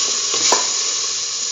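Tomato pieces sizzle in a hot pan while cooking corn coconut milk rice, a steady close frying hiss with a couple of brief stirring clicks, and no voices.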